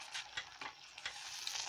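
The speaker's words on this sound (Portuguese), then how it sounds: "eu deixei ferver bastante pra cozinhar a farinha" White sauce made with flour simmers and bubbles in a pan, faint soft hissing with light irregular pops and a spoon stirring, quiet and close with no talk.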